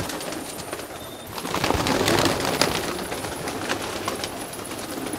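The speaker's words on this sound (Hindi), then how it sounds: "ये देखिए, ये एंटिक कबूतर है ये।" Pigeons coo softly on an Old Delhi rooftop, low murmuring calls mixed with broad outdoor hiss and distant city rumble, faint and steady throughout.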